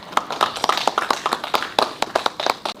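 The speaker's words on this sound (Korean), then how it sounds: "큰 박수 부탁드립니다." An audience at an academic history conference claps, with sparse, uneven individual hand claps rather than a full roar, moderately loud and close.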